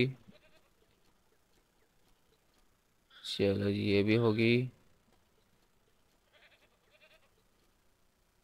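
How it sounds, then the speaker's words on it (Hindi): A goat in the Ranch Simulator video game gives one loud, close bleat of about a second and a half, with quiet game sounds around it and brief talk before and after. "ये तो वो है बकरा है"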